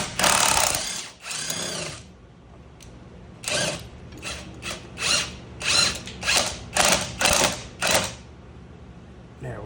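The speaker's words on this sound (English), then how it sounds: "I got my wrench on the nut on top." A ratcheting wrench turning the top nut of a car's sway bar link, several bursts of quick close clicking in a steady rhythm, loud against a quiet background.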